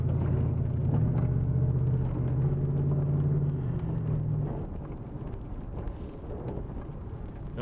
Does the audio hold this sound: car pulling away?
yes